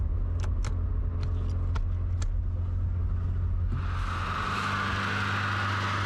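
The engine of an abandoned 1967 car idles with a deep, steady rumble, a few light metallic clinks early on, then a louder hissing rush joins the running motor partway through.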